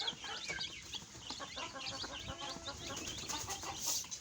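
A mother hen and her chicks, about eight of them, at a backyard chicken feeder, with soft repeated clucking and high chick peeps mixed together, close and steady with no talk.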